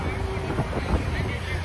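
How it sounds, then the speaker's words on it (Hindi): Steady wind buffets the microphone outdoors at VGP Marine Kingdom in Chennai, a dense, continuous rumbling roar with no breaks. "और अच्छी हवा चल रही है"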